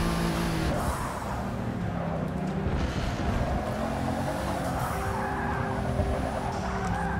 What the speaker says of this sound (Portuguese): O carro derrapa muito, cara.